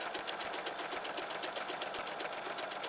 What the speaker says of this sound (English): I'm just kind of sewing away here.